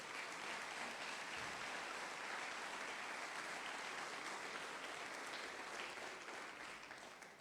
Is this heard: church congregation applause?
yes